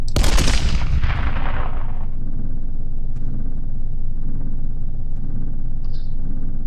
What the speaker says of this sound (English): we're going to fire that off, see if we can get some destruction going